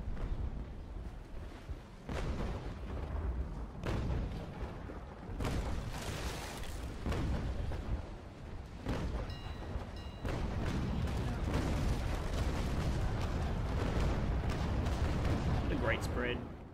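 Naval cannons fire from a ship in a sailing warship video game, a series of deep booming shots at irregular intervals over a steady rumble of wind and sea.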